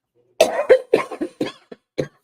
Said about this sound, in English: You notice I'm coughing.